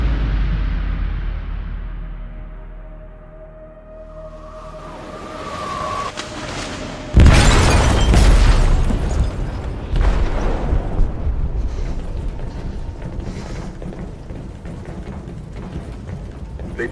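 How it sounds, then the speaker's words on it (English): An explosive detonates in a ship's hold in Detroit Become Human: after a low rumbling lull a sudden loud boom bursts out, followed by sustained roaring, creaking and clanking debris as the hull shudders. "They detonated an explosive in the hold."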